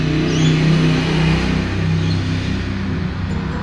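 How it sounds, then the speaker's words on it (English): Traffic on a main road heard from indoors by a window, a car engine droning and accelerating past fairly close, steady and loud, with no talk. "I'm sorry if you can hear a lot of traffic because I'm sitting at my window and it's a main road right there"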